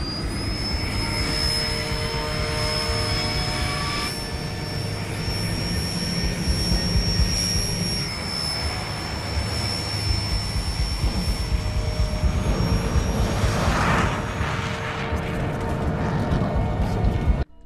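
Jet airliner taking off from a runway, a loud continuous engine roar with a sustained high whine that holds steady and swells toward the end.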